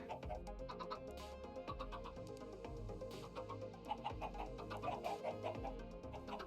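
Chickens in the Minecraft video game: repeated short clucks and squawks, several birds overlapping in an irregular, busy pattern over a steady background, moderately loud and continuous, with no one talking.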